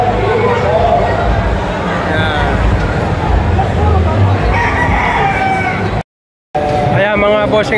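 Roosters crowing at a poultry expo in San Pablo, Laguna, several loud nearby crows over a busy babble of people talking and fowl clucking, with a short dropout before another crow.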